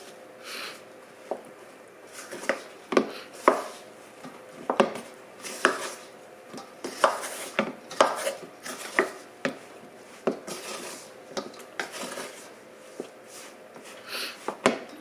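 Pizza dough ingredients being mixed by hand in a bowl for a homemade vegetable pizza crust, a steady run of soft thuds, scrapes and slaps repeating irregularly, fairly close, with no talking.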